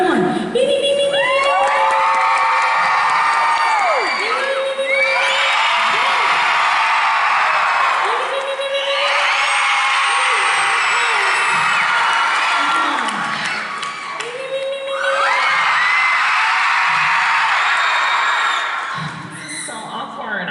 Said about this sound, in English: You will cheer the loudest for the bay you think I had the most chemistry with